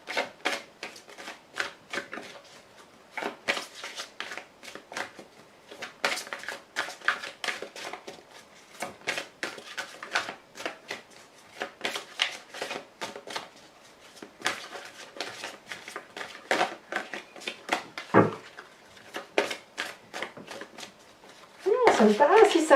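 Tarot cards are shuffled and laid out on a table: soft, quick riffling rustles and light card snaps repeat in uneven clusters, fairly quiet and close, while someone talks throughout.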